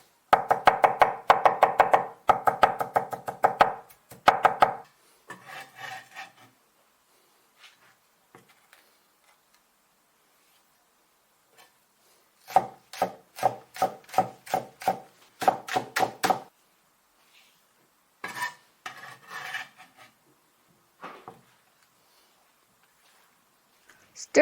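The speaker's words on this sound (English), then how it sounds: "Cut the minced ginger and scallion to remove the raw meat smell and give freshness." A knife chops minced ginger and scallion on a board in rapid, close, rhythmic runs of crisp taps, broken by pauses and a few scattered knocks.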